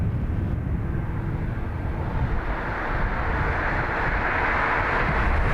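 A jet airliner takes off from runway 28 right at Dublin Airport: a loud, continuous engine roar that swells and brightens over several seconds, heard from nearby with no voices.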